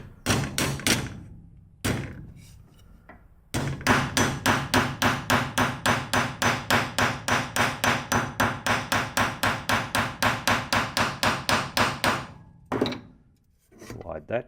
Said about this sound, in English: Just going to use the flat anvil section on the back of a bench vise and a hammer